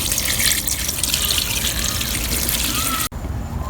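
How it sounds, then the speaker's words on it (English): Fresh water runs steadily into a portable countertop mini washing machine for the rinse cycle, a loud continuous splashing and trickling with a brief cut near the end. "We've got our fresh water going in for the rinse."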